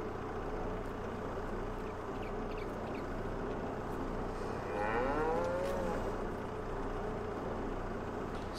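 Cattle mooing in the farming game Farming Simulator 22, a single drawn-out low moo rising midway over a steady engine-like drone and ambient farm noise, moderately near and fairly faint.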